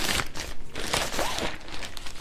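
A plastic bag around a new cargo liner is handled and opened, giving a continuous close crinkling and rustling of plastic throughout.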